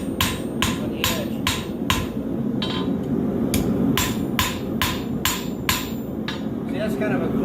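Hammer blows on a horseshoe being forged into a knife over an anvil ring out in a steady series of about a dozen sharp, loud metallic strikes at a farrier's forge, with a low background rumble between them.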